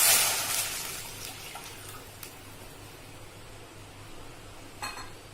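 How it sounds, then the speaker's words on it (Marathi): Water poured into a heated kadhai for ukadiche modak dough, a brief hissing splash at the start that fades into quiet kitchen clinks and a soft steady hum, with one more sharp clink near the end. "कढई तापली, आपण आता पाणी टाकूया"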